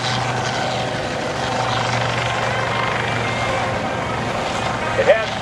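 Coast Guard HH-65 helicopter and HC-130J aircraft with six-blade propellers at the Kaneohe Bay air show, giving a steady loud rotor and engine roar, with crowd noise in the background.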